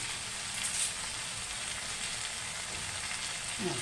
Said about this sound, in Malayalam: ഇനി നമുക്ക് കുറച്ച് കറിവേപ്പില അതിൻ്റെ മോൾ കൂടെ ചേർത്ത് കൊടുക്കാം